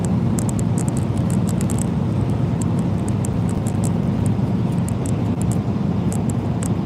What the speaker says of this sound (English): Or you just hear the truck noise?